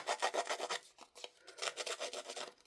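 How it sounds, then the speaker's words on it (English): Rapid back-and-forth rasping scrapes in quick bursts as paper edges are scuffed for a junk journal page, a short pause, then more rhythmic scuffing strokes, close and fairly quiet. "what I want to do first is scruff up my ends"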